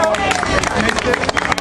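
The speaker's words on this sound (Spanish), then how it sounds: "Fuerte el aplauso para el Teatro Maracol de Justicia Global" A crowd applauding the Teatro Maracol de Justicia Global at an outdoor tribute gathering on Playa Caracoles, a short burst of dense clapping mixed with cheering and crowd babble.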